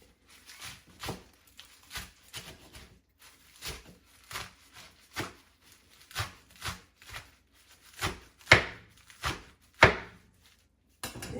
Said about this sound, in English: I'm just going to give them a nice rough chop